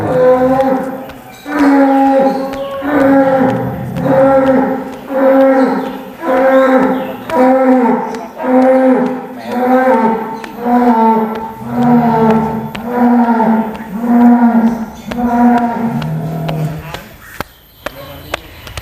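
Large, healthy bulls bellow loudly over and over in long, deep, rhythmic moos, one after another, close by and powerful.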